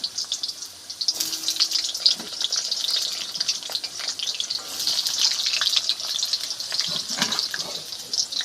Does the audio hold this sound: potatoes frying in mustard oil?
yes